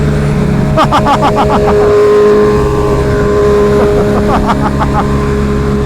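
A BMW M 1000 RR motorcycle accelerates hard and loud, engine revving up through rapid gear changes with rising pitch sweeps, close and dominant over a steady background engine drone.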